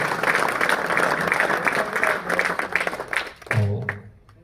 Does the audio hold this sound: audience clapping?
yes